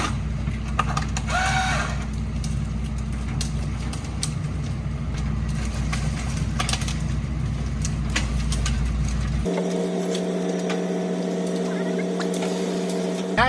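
A grapple saw crane truck works on a tree removal, its engine droning steadily near with clattering and sharp mechanical bursts, then the tone shifts abruptly to a different steady hum.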